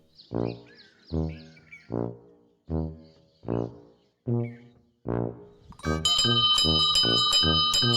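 A metal temple bell clangs repeatedly and loudly, ringing out in a rapid cluster after a series of short, rhythmic vocal calls.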